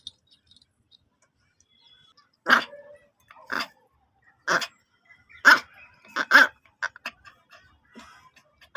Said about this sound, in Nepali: हल्का भुक्न सिकेछ अहिले